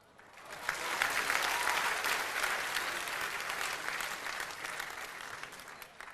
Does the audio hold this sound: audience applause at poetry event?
yes